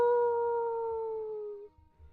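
A human voice imitating a wolf howl, one long sustained tone that slowly falls in pitch and fades out after under two seconds, near and clear with faint background noise.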